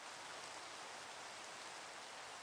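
Steady rain pours in Minecraft as a constant dense hiss of falling drops, even and unbroken, with no voices.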